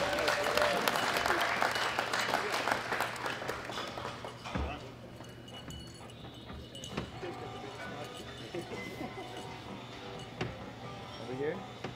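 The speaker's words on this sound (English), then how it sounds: "Give them all a round of applause" Audience applause for medal winners at a world classic powerlifting championship, a loud dense crowd clapping that fades after a few seconds into quieter room noise with scattered claps and voices.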